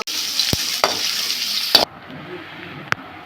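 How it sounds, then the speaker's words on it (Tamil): Onions and curry leaves sizzle in hot oil for a chickpea and cauliflower curry, a bright steady hiss broken by a few sharp stirring clacks, then cutting to quieter frying after the midpoint. "எண்ணெய் காஞ்சதும் கருவேப்பிலை போட்டுட்டு அதில் வெங்காயத்தை போட்டு"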